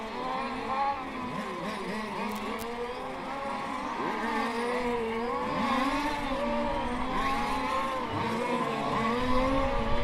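Several race cars on a circuit at the start of a race, nine drivers on track, engines whining and overlapping as they rev and pass, steady and loud throughout with pitch sweeping up and down.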